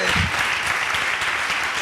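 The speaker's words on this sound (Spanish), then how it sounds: "Hágale el aplauso ahí." Steady clapping from an audience fills the whole stretch, dense and even, with a faint voice or two underneath.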